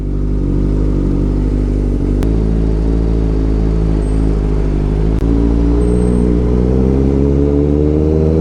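Motorcycle cruising on the NLEX highway, a steady, close engine drone with a low harmonic hum and wind rush, holding constant throughout, with a couple of brief clicks.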